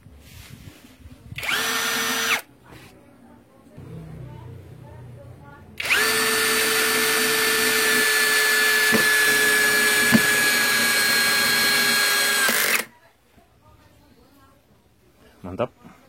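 A Dagmara 21V brushless drill driver drives a screw at speed 1 and maximum torque, a loud steady whine lasting about seven seconds after a shorter earlier burst, with talk in the quieter gaps.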